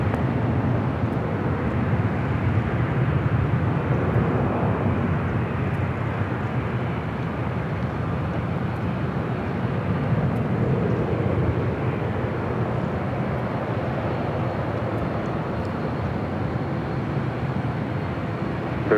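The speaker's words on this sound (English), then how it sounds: "Our next arrival is that Hawaiian A330" A Hawaiian Airlines Airbus A330 landing at LAX gives a steady, loud jet roar that holds throughout with a slight swell in the middle, and no voices are heard.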